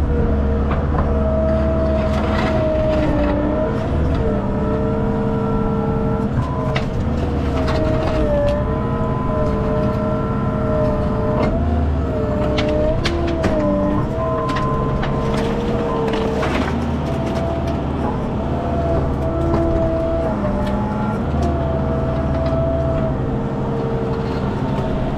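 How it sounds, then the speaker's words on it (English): A skid loader engine runs loudly on a farm while clearing a tree stump, a steady droning mechanical whine with shifting tones as the machine works, close and continuous. "I'm gonna grab the skid loader."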